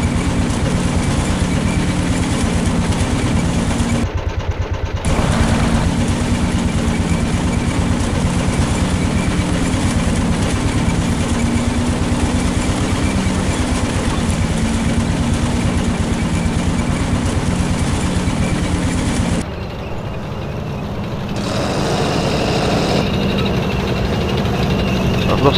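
Heavy vehicle and tank engines rumble steadily in a video game as vehicles and artillery deploy forward, a loud continuous low drone with brief dips, no clear talk.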